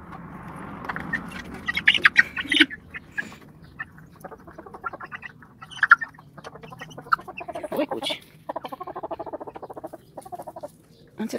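Backyard chickens clucking and chattering close by, with bursts of rapid clucks, short squawks and quieter murmuring that come and go over several seconds.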